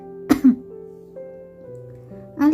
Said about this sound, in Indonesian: menutup mulutnya dan batuk beberapa kali